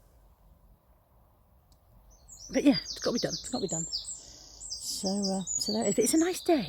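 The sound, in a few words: birds singing outdoors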